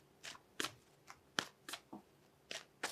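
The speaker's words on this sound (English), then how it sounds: "I'm going to pull one more card here" Tarot cards being shuffled and drawn by hand, a run of eight crisp, papery flicks and snaps spaced irregularly at close range, with no talking.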